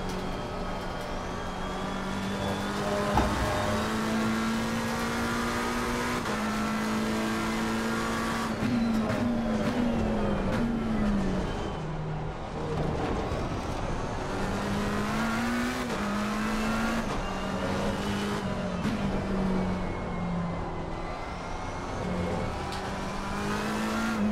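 A race car laps the Barcelona circuit in Assetto Corsa Competizione, its engine droning loud and continuous, pitch climbing through each gear and dipping on upshifts and braking, with occasional tyre noise.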